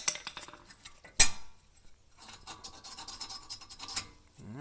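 Metal clips being worked off a brake caliper on a 2013 VW Beetle give faint scraping, rubbing and light metallic clinks, with one sharp click partway through, close by and quiet.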